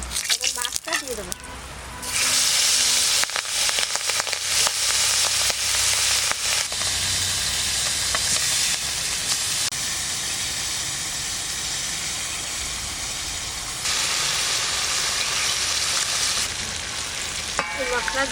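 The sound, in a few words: hilsa fish frying in oil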